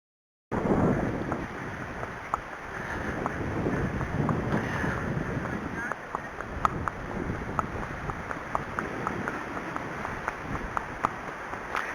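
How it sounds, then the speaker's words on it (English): Strong wind buffeting the microphone in a steady roar with gusts, continuing for several seconds without speech, during wet, cold conditions while riding a horse. "it's really windy, quite gusty at times"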